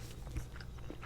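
Close, soft bites and chewing of egg during a breakfast meal, a few crunchy mouth sounds spread over a short moment with a steady low hum beneath, no talking.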